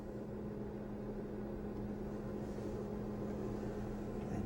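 A light-curing oven hums steadily while curing a dental custom tray, giving a continuous low electrical drone with a faint even hiss that holds at the same level throughout, with no voices.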